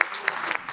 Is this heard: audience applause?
yes